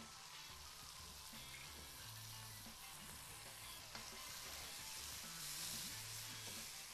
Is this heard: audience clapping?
no